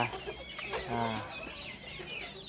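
Bantam chickens cluck and chatter nearby in short bursts, with a few higher calls mixed in against a quiet outdoor background.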